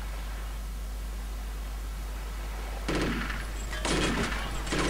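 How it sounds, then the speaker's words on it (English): Gunfire in the video game Chaser, two short bursts of shots late in the clip over a constant low hum and hiss, fairly faint. "And you, stop shooting me."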